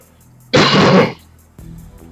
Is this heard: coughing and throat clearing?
yes